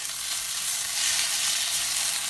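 Garlic fries in a pan for a chicken tikka chasni with a steady, close, bright sizzle that runs unbroken throughout, with no talk over it.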